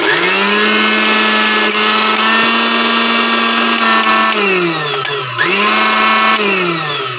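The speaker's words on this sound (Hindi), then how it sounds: "मिक्सी को चालू करके आप लोग को दिखाते हैं" A repaired mixer grinder whirs loudly with a steady high-pitched motor whine. It briefly slows and dips near the end, then spins back up.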